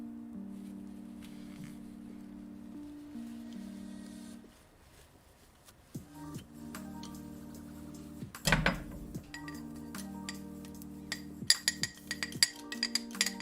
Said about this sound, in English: let's rinse off these pliers as well